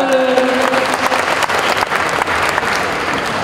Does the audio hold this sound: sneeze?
no